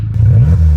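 A Volkswagen Scirocco engine running with no exhaust muffler gives a quick, loud, raspy rev, close by and rising then settling, with no talk.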